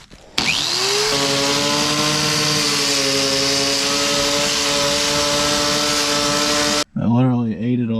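A power drill whirs loudly and continuously for several seconds, its motor pitch steady, then cuts off abruptly followed by a brief voice.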